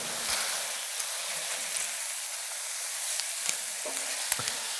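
Sausage sizzles quietly in a pan while a utensil stirs it, giving a soft even frying hiss with a few light scrapes and taps near the end, no one talking.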